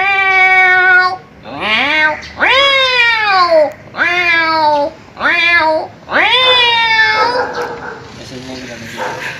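A man imitates an angry cat with his voice, giving about six drawn-out, rising and falling yowls and snarls in close succession, loud and near, ending in a rougher hissing tail.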